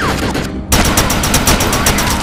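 Rapid gunfire from shooting enemies in the video game Defiance, loud and continuous, with repeated sharp bursts after a brief drop near the start.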